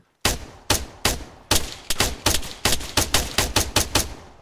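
Gunfire in the video game Arma 3, a quick run of about fourteen loud, sharp shots, first spaced apart and then fired in a rapid, slightly uneven burst, with no talk over it.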